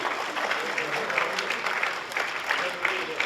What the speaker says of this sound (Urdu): آپ سب کی زوردار تالیاں ہونی چاہیے۔